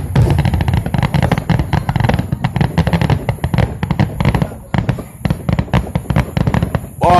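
Fireworks grand finale at a Fourth of July show, a dense, continuous barrage of loud booms and crackling bursts heard from a distance, rolling on almost without pause.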